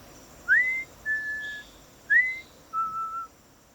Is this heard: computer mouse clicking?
no